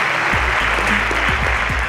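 A crowd applauds at a school quiz competition between two high schools, loud and dense, continuous clapping close by for the whole short stretch.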